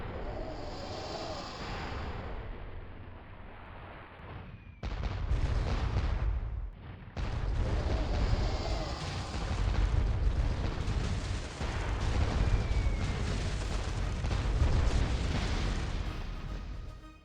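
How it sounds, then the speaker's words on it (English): Towers in the video game Pirates: The Legend of Black Kat hurl flaming rocks, heard as repeated heavy booms and rumbling impacts that start after a quieter opening and keep pounding loudly with sharp gaps between bursts. "The towers have started shooting flaming rocks."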